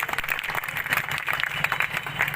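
A village crowd claps to welcome the MLA at an outdoor gathering, with loud, dense clapping that runs steadily throughout and a few voices sitting faintly under it.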